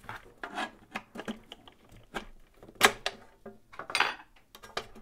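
A spoon worked against the lock of a Stack-On RFID gun safe, giving a series of close, sharp metallic clicks, taps and rattles in irregular bursts, with no talk.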